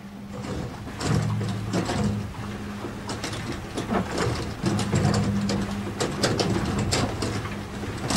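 Wooden gearing of a stone-ground watermill turns steadily, the pit wheel, wallower and great spur wheel with beechwood cogs giving a continuous rumbling, knocking churn with repeated creaks and clatters, fairly close and without talk.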